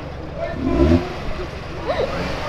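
A Ford Veracruz fitted with a bodykit revs briefly at close range, its engine swelling and dropping once, while people talk excitedly nearby.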